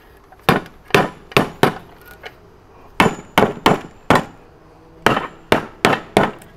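A metal mould holding freshly cast lead for a homemade 12 V lead-acid battery is struck with a hammer: about a dozen sharp, close knocks fall in quick clusters of two to four, clear and alone with no talk.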